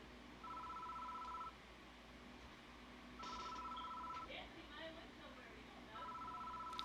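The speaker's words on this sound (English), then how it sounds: "The phone is ringing." A telephone rings in the video game Death Mark, three evenly spaced electronic ring bursts about a second long each. The rings are faint against a quiet background, and a voice speaks briefly between them.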